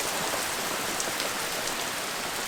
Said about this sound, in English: Wow, it hasn't rained like that for a long time.